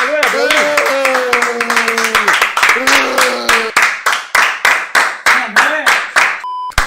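Sharp, rhythmic hand claps ring out close to the mic during a casual livestream, starting under excited shouting and sung voices, then continuing alone as a steady string of about a dozen distinct claps.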